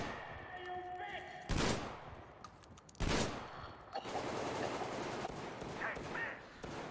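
A three-round burst rifle fires in Metro Exodus, with two sharp, loud bursts about a second and a half apart, then a busier stretch of clattering shots and rattling mechanical noise at lower level.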